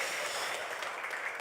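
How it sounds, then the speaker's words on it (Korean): Church congregation clapping together at the close of a Sunday worship service, a steady, even wash of applause filling the room for the whole stretch without pause. "우리 예배를 받아주신 하나님께 영광의 박수 올려드리겠습니다."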